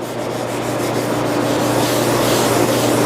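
Steady, continuous rubbing of sandpaper across a sealer-coated wooden guitar pick table, loud and close with an even, unbroken scratchy hiss over a low background hum.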